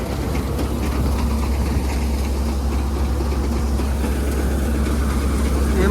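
New Holland tractor engine fitted with a turbo, running steadily at around 1200 RPM with a loud, constant low rumble and drone throughout, no talk over it.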